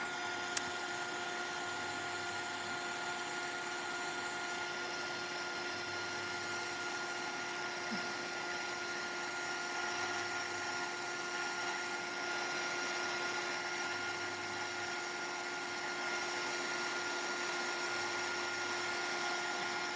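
A small electric drying tool blows in a steady, even whir over a pastel collage painting, holding constant and close for the whole stretch with no break.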